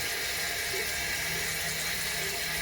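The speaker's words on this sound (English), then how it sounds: "I just use lukewarm water." Tap water runs steadily while a face is washed with lukewarm water at a sink, a soft continuous hiss and splash with no talking.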